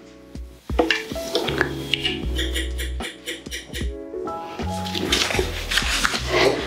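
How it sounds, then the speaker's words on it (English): A spoon stirs coffee grounds in water for cold brew, scraping and clinking against the vessel in uneven bursts, close up, with brief talk over it. "I'm just going to give it a good old stir"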